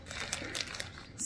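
Plastic wrapper crinkling as a packaged decorative scented heart is opened, quiet close-up rustles with small crisp peaks, brief and soft.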